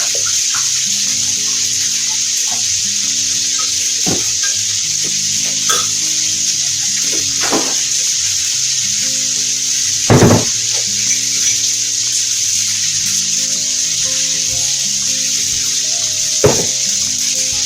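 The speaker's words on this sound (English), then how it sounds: "I am going to add this wine together with my" Wine and stock go into a sizzling pot, producing a loud, hissing sizzle with a few clinks and splashy bursts, and soft music playing in the background.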